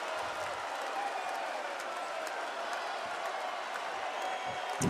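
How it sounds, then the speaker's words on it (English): A basketball arena crowd roars on its feet at a San Diego State game against BYU, a dense, sustained wash of cheering and applause that stays loud and even throughout. "Crowd on its feet."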